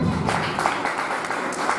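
An audience at a Jain religious gathering claps steadily in approval of a family's scripture offering, a dense wash of many hands heard alone throughout.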